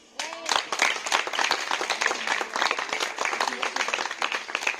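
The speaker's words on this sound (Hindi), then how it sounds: "ये इनके लिए तालियां हो गई।" A crowd honours an award winner who took an All India 4th rank at a Bharat Vikas Parishad event, its dense, busy applause rising quickly and holding strong throughout.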